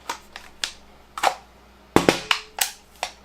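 SVT-40 rifle from 1941, loaded with a ten-round 7.62x54R magazine, with its magazine release lever being pulled: a run of sharp, close metallic clicks and clacks in uneven bursts, with no talking.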